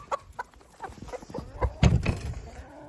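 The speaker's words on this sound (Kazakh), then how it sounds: "Біздер мұнда тауықтарды далаға шығарып жатырмыз." Chickens cluck as they are let outside, a few close clucks and scuffles with some knocking, growing busier toward the end, fairly quiet overall.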